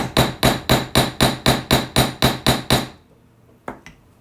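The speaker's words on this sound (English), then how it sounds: "Now we're done with our hammering." Hammer striking jewelry wire on a hard surface, eleven sharp evenly spaced blows close by at a steady rhythm, then a pause and two lighter taps.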